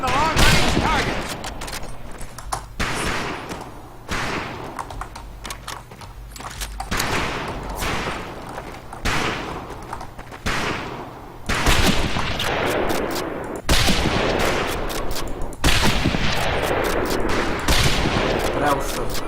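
Scoped rifles fire at long-range targets on a firing range in the video game Medal of Honor Pacific Assault, with loud, sharp shots in irregular bursts and echoing tails, under a voice talking.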